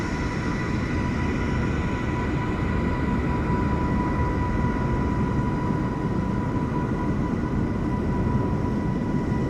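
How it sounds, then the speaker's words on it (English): An Airbus airliner rolling out at LAX airport at night, heard as a steady, loud jet engine drone with a constant whine, unbroken and without voices. "The Airbus he's rolling out."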